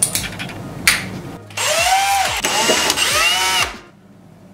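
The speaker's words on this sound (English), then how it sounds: "So I'm gonna bang that in my drill" A power drill fitted with a security screw bit whirs in short close bursts, speeding up and slowing down in three or four runs before stopping, while the new EV charger is being opened.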